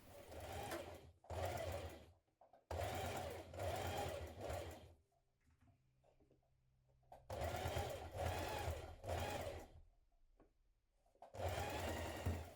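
A sewing machine stitches a 6mm seam on teddy bear fabric in bursts of rapid whirring, stopping and restarting several times with quiet pauses between runs, close and clear with no talking.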